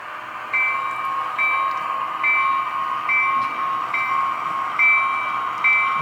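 A locomotive rolls along railroad tracks in a steady, even rumble, with regular accents recurring about once a second like wheels crossing rail joints.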